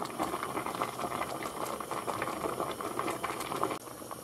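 Spaghetti boiling in a pot of water, a dense continuous bubbling and rolling simmer with light rattles of the pot, steady throughout and close up, with no talking.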